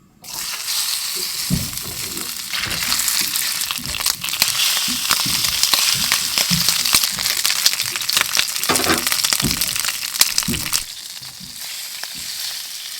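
Steady crackling sizzle of lobster meat frying in hot oil, loud and continuous with occasional sharper pops and spatters, no talking.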